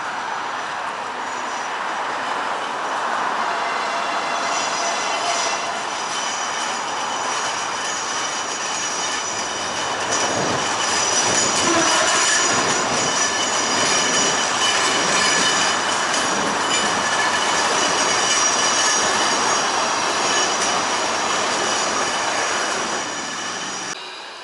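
A train passes through Udelnaya railway station in Saint Petersburg with a sustained rumbling roar, wheel squeal and rolling clatter, swelling louder midway and staying near throughout.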